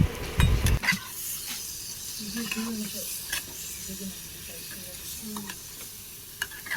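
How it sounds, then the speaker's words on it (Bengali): Prawns cook slowly in a spiced masala over a low flame for a Bengali prawn kalia, giving a soft, steady sizzle after a brief louder clatter at the start, with occasional light stirring sounds. "মশলার সাথে চিংড়ি মাছটা আমি লো ফ্লেমে ধীরে ধীরে কষাবো"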